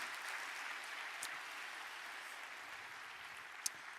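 An audience at a church prayer meeting claps together, a faint, even wash of applause that carries on steadily with no voices over it.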